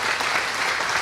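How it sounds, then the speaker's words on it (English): A presentation audience at a strength-training event claps in a dense, steady burst of applause throughout the short moment, loud and close with no voices on top. "Give him a round of applause"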